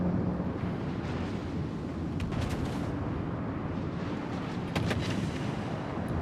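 Battleship guns firing in a naval video game, a sustained rumbling roar of heavy cannon blasts with a couple of sharper reports near the middle and end, loud and continuous, with no speech.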